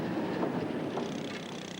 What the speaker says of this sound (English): running a heavy train across slowly and gently. In this case, 2 substantial diesels will do the job nicely